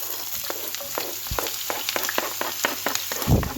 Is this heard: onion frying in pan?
yes